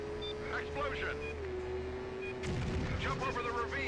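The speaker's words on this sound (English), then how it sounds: "Explosion." Explosions in the PlayStation 2 stunt-driving game Stuntman, a dense rumbling burst that swells around the midpoint over a steady engine drone, with someone talking throughout.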